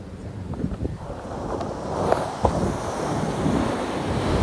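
Wind roars across the microphone at Kashid beach in Alibaug during the monsoon, with the steady wash of surf beneath it, continuous and fairly loud with no voices.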